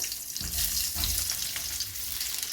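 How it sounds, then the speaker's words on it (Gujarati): Stuffed gunda dropped into hot oil with mustard seeds, cumin and asafoetida in a Gujarati kitchen, giving a loud, continuous hissing sizzle close up, with a brief burst of heavier crackle as the pieces go in. "હવે જે આપણે ગુંદા ભરીને રાખ્યા છે ઉમેરી દઈએ"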